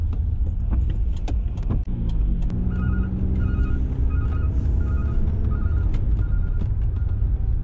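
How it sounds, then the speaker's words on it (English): A garbage truck passes near a car on a wet road, a steady low road and engine rumble with repeating beeps and some clanking, with no one talking. "Garbage truck."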